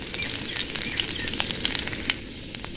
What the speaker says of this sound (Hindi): सबसे पहले डालेंगे अदरक तेल में, अदरक और लहसुन, हल्का ब्राउन होने देंगे।